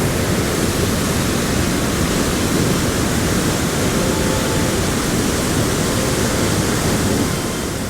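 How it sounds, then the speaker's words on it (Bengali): A waterfall in the hills near Dhanbad gives a loud, unbroken rushing roar that fills the whole scene evenly, with no voices or other sounds rising above it. "বাবা দেখতে এত সুন্দর জলপ্রপাত"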